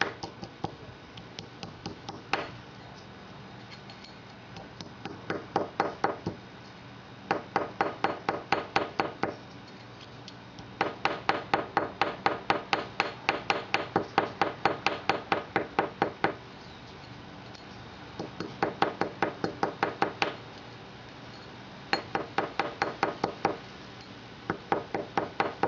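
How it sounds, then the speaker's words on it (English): Rapid light hammer taps flattening a metal arrow broadhead come in clustered bursts with short pauses between, each strike sharp, ringing slightly and close by. "I'm just going to lightly pound these areas with a hammer just to flatten it out."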